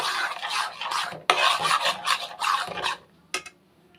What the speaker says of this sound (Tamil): கை விடாமல் கிண்டணுங்க.